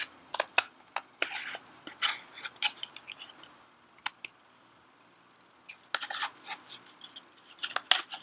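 Scissors snip through paper to cut out a lizard shape, giving quick, crisp clicks and short cutting strokes in uneven bursts with a pause in the middle, close and fairly quiet.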